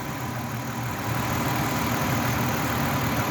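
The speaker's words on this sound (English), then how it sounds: "with the motor running" A 2007 Ford Freestyle's engine idles steadily, a low continuous rumble with even hum and no other sounds.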